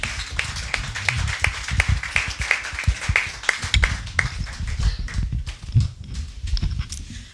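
Congregation clapping together in a church service after a sermon, a dense, steady patter of many hands with a few voices calling out, continuing for several seconds.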